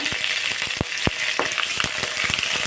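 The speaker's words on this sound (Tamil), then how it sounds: "கடுகு நல்லா பொரியட்டும்" Mustard seeds crackle and pop in hot oil with dried red chillies and curry leaves, a dense run of sharp close snaps over a steady sizzle, with no voices.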